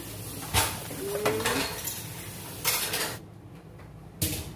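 A spoon stirs rice seasoned with salt and lemon in a cooking pot for Arabian-style meat mandi, giving a few scattered metallic clinks and scrapes against the pot over a quiet background.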